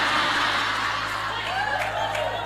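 Audience at a large Islamic religious sermon gathering breaking into applause and crowd cheer, a dense steady wash of clapping held at constant loudness throughout.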